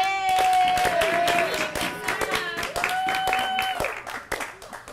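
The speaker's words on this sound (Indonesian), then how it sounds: "Tepuk tangan dulu dong untuk" Applause from the audience at a live talk event with cast members, quick clapping transients running under prominent sustained tonal voices or music, fairly loud and close throughout.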